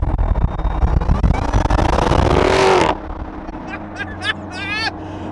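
A supercharged Lamborghini engine roars loudly and close for about three seconds, then cuts off abruptly. Voices talk over the quieter remainder.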